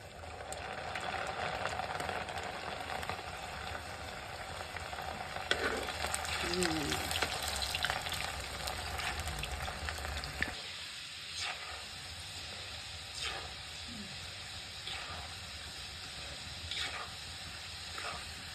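Dal chanachur, a lentil snack, fries in hot oil with a continuous hissing sizzle, louder in the first half and softer afterward, with occasional faint scraping and a brief murmur of voice.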